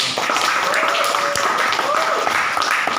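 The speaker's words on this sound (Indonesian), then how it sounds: "Mari kita berikan tepuk tangan untuk" Classroom applause after a student group presentation on thermal expansion, a steady wash of many hands clapping throughout, with voices and a brief whoop heard over it.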